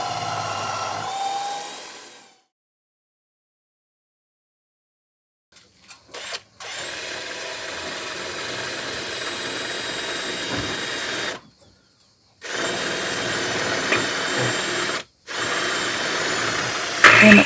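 A power drill drives screws into a door frame during a renovation in Portugal: long, loud whirring bursts separated by short silences.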